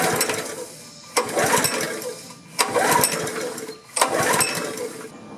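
Small engine cranked over during a compression test, four separate bursts of rapid chugging pulls, each starting abruptly and lasting about a second, with short pauses between them.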